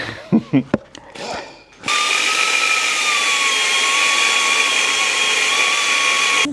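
Power drill boring into the steel frame of a Harley FXR motorcycle: after a few seconds of speech, a loud, steady, high whine starts abruptly and runs without a break to the end, close to the listener.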